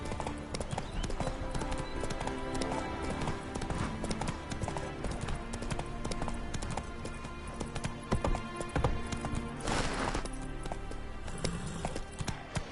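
Roach, the horse in the video game The Witcher 3, gallops with rapid, rhythmic hoof clip-clops that run steadily throughout amid layered game sound, fairly close, with a brief louder burst near the end.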